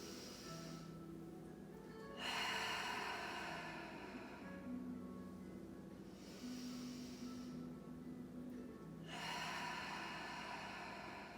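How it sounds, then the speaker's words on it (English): Slow deep breaths during an easy morning yoga flow, drawn in through the nose and released audibly through the mouth, three long exhales close and soft with quiet pauses between. "Inhale through your nose and exhale out your mouth audibly."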